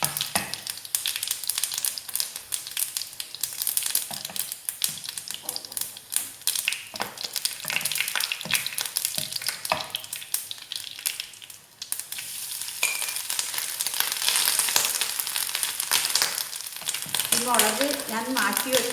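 Grated coconut fries in a pan with popped mustard seeds for a Kerala erissery with pumpkin and beans, giving a steady close sizzle with stirring scrapes throughout, growing slightly louder toward the end.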